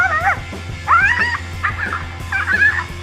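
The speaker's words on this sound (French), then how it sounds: "Un petit chien a rapidement regretté de s'être attaqué au lézard Tego lorsqu'il en a eu assez de ses aboiements agaçants" A small dog yaps and whimpers in short, high-pitched bursts, four or so barks spaced across the stretch, fairly close and alone with no voices.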